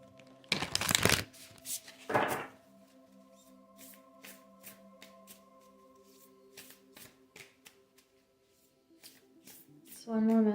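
Tarot cards are shuffled during a card reading, with a couple of louder riffles early on followed by soft, scattered flicks and taps. Quiet music hums underneath and a voice briefly comes in at the end.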